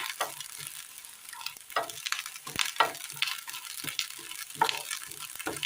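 Grated coconut fries in a pan for payasam, a crackling sizzle broken by repeated stirring scrapes and bursts, close and fairly quiet, with no voices.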